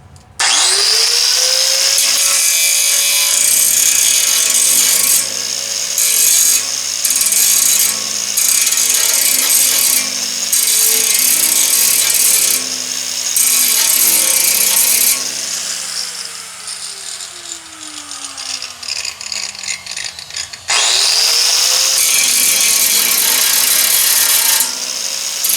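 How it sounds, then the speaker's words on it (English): Power grinder cutting a flat spot during a 1982 Midway MCR arcade machine repair, a loud sustained whine with brief pauses and a spin-down near the end before restarting. "just grind a flat on there"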